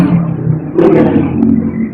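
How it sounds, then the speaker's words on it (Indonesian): A road vehicle passes close by, with a brief roaring engine swell that rises, peaks and fades over a couple of seconds. "Kendaraan lewat itu bro."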